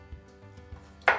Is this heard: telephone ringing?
no